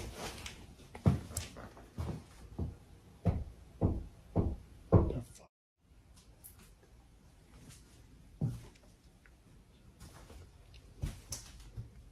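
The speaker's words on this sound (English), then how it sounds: "Out of nowhere, strange knocking sounds echo from somewhere deep within the basement." Knocking in a basement, a series of sharp, hollow raps in a steady rhythm, about six close together, then a brief silence and a few more scattered, fainter knocks.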